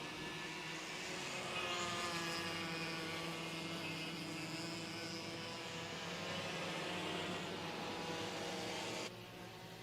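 Racing karts on the track at Hampton Downs, a distant, faint droning whine of small engines rising and holding steady before cutting off near the end, with no talk.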